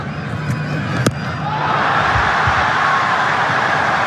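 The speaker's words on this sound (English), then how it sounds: "But the crowd are on their feet." A packed cricket stadium crowd roars on its feet at the T20 World Cup final between India and New Zealand, a loud sustained wall of cheering that swells after a sharp crack near the start.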